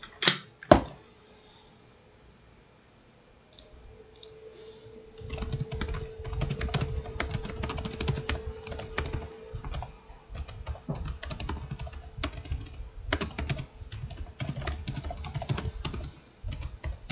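Fast typing on a computer keyboard, a rapid, dense stream of close key clicks after a couple of sharp knocks and a brief quiet start, continuing to the end.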